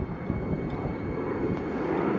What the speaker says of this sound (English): As we speak, there is a military cargo plane flying over.